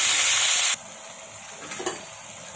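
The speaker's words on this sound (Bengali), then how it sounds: "মাছটা ভেজে নিচ্ছি।" Prawns seasoned with salt and turmeric fry in a pan, a loud sharp hiss at first that settles into a quieter steady sizzle with a light scrape.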